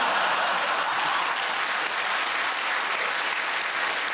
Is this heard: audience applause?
yes